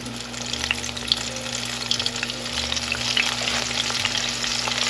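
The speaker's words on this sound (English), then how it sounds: "Add your chicken to your grease," Flour-coated chicken frying in hot grease in a pot, a steady close crackling sizzle with fine bubbling pops throughout and a low hum beneath.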